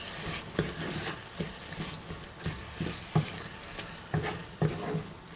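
Bolognese sauce with a spoonful of tomato puree gets stirred in a pan, giving soft wet scraping and a low simmering sizzle, with regular utensil knocks against the pan.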